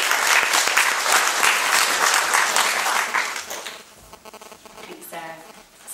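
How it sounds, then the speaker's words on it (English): Audience applause at a university talk on SEO basics in Norwich, loud dense clapping for about three seconds that thins out and fades, followed by a quieter stretch with faint room sounds. "let's give her a round of applause"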